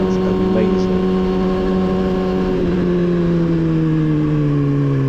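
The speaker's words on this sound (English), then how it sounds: "It sounds so good, this bike." A motorcycle engine runs steadily on a ride with friends, a loud sustained drone whose pitch slowly sags as it eases off, with a faint voice underneath.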